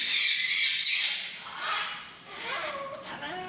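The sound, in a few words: bird squawking in an aviary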